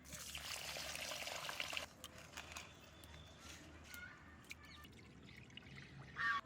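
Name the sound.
washing rice in water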